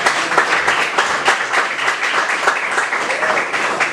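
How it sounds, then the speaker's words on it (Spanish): A church congregation claps during a Spanish-language sermon. The hand claps are loud, close and fairly rhythmic, and the burst of applause is steady and sustained. "Aplauda al Señor si usted está entendiendo"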